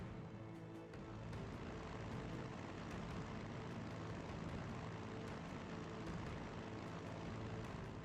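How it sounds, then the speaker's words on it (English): A bomber aircraft in the strategy game Strategic Mind flies with a steady, faint propeller-engine drone. The drone holds throughout, with light clicking interface sounds scattered on top. "Now we can send the bomber."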